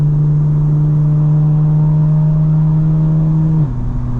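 Warmed-up car engine holding a loud, steady drone, then dropping in pitch near the end as the revs shift, with no voices present.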